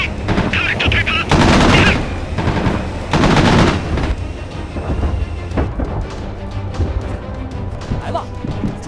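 Bursts of automatic gunfire and explosions in a military simulation video game set in a Tianjin battle, loud dense volleys early then scattered shots, with voices shouting over the fighting.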